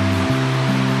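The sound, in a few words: waterfall rushing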